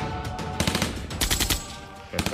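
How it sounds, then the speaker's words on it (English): Bursts of rapid gunfire from men opening fire in an animated railway drama, several loud volleys of close shots spread across a couple of seconds. "Open fire, men!"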